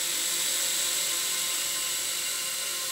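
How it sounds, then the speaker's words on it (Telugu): A drone flying overhead, a loud continuous high-pitched whine and buzz that holds steady and close for the whole moment. "ఇంతకీ డ్రోన్ ఎక్కడి నుండి వస్తుంది?"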